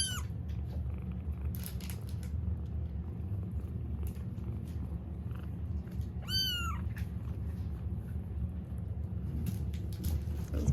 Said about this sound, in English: Someone's learning to purr.